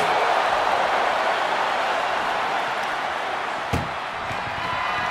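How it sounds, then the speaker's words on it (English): An ambulance door slams shut during a match in a wrestling video game, a single sharp bang standing out midway over a loud, steady crowd roar. "Look at the struggle just to shut that first door."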